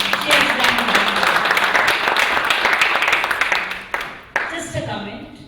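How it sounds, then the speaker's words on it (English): An international organization development conference audience gives a round of dense, loud clapping that tapers off after about four seconds, with a voice speaking as it fades. "Can we have a big round of applause for her?"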